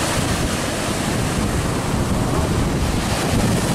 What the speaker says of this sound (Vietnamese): Sóng ầm ầm đen xì hết trơn.